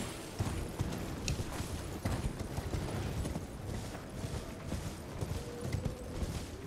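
Horse hooves clip-clop over terrain in the video game Elden Ring, a faint, quick, irregular patter of steps with soft mechanical creaks in the background.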